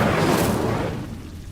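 Incendio fire spell cast in Hogwarts Legacy, a loud whooshing fiery burst that starts at full force and tails off over about a second and a half.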